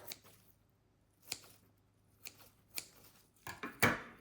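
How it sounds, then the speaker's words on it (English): Scissors cutting Callisia repens plant stems halfway down during repotting, heard as a few sparse, sharp snips spaced about a second apart, then a louder crunchy cut with rustling at the end, close and quiet with no voices. "I'm just going to go in halfway like this and just snip it all off."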